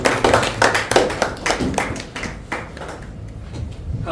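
A small group at a Toastmasters club meeting claps at close range, the sharp, slightly uneven claps crowding together early, then thinning and fading over about four seconds.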